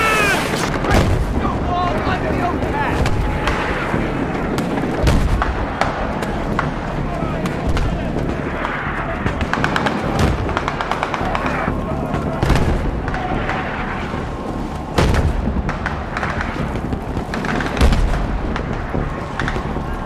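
Mortar fire and explosions thunder through a Battlefield 3 combat mission, with dense repeated booms and blasts, clattering gunfire and crackling debris mixed with shouted voices throughout.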